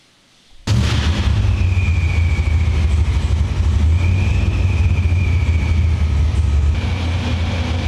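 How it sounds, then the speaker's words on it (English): A blow-through carbureted engine idles steadily at about 1200 RPM, a loud, close, continuous low rumble that starts abruptly after a quiet moment and holds evenly to the end. "sitting there idling on its own, about 1200 RPM"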